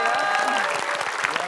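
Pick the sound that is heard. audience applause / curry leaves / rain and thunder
audience applause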